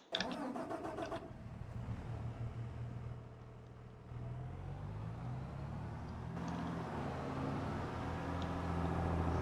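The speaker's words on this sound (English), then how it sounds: "and I might as well use this tractor." A tractor engine in Farming Simulator 22 cranks and catches, then settles into a steady low idle that runs loud and close, with no talking.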